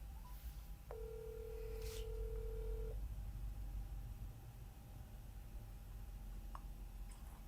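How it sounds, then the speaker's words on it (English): A phone dials out to call another phone, giving a steady keypad tone that holds for about two seconds before the line goes quiet, heard alone over faint background hiss. "I'm calling her on my other phone"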